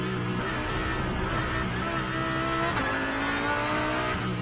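GT race cars, including a Porsche and a Lamborghini, race on the Lausitzring track during an ADAC GT Masters event, their engines a loud sustained roar with rising and falling revs and a faint tyre squeal, no voices.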